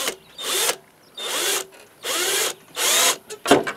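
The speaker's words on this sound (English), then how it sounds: "now we're going to step drill this hole" A step drill bit bores a hole through a metal mower deck in four steady bursts of whining, grinding drilling separated by short pauses, close and fairly loud, ending with a brief clatter.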